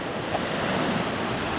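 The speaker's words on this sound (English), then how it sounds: "We're at the ocean." Ocean surf washing onto a San Francisco beach, a steady broadband roar of breaking waves with some wind noise, continuous and fairly loud with no voices.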